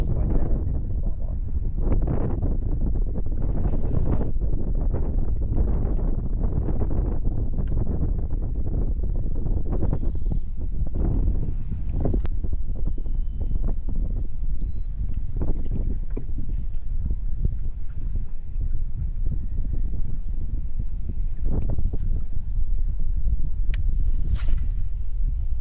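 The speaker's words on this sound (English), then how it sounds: "the wind is blowing directly into my face at about 25-30 mile an hour" Strong, gusty wind of about 25–30 mph blows straight into the face of someone fishing from a kayak. It makes a loud, continuous rumbling buffet against the microphone that pulses with each gust and lasts throughout, with no talking.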